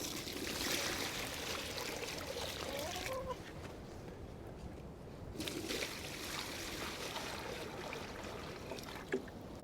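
Fresh water runs and splashes for farm animals on cleared land, a steady gushing trickle that briefly quiets in the middle before resuming, heard close and soft.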